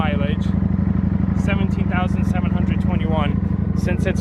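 A salvage-title motorcycle idles close by with a steady, throbbing engine note, while someone talks over it throughout.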